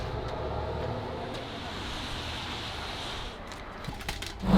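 Steady rumbling road noise inside a city bus riding into Split, Croatia, with a constant low engine and tyre drone, faint rattles, and a sudden louder bump near the end.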